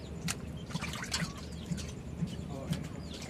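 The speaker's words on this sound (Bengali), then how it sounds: "মাছটা অলরেডি 4 থেকে 5 বার অলরেডি সুন্দর মতন ধোয়া হচ্ছে" Cut fish washed in water at a beachside fry stall before frying: continuous splashing, trickling and dripping with light regular knocks, while voices talk over it.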